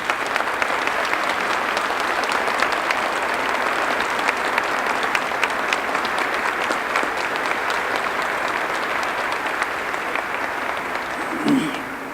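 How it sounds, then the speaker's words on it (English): Steady, dense audience applause at an airport runway re-dedication event honoring donors, sustained loud clapping from a crowd throughout. "So give all those people a nice round of applause."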